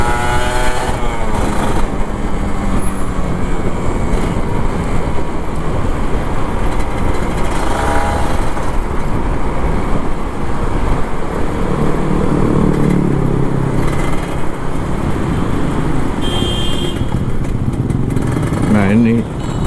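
Kawasaki Ninja RR 150 two-stroke motorcycle accelerating on a road, its engine droning loudly and steadily throughout with rising and falling revs, wind noise mixed in.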